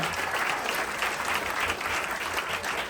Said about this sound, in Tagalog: Yung malakas-lakas naman na palakpak, mga kapatid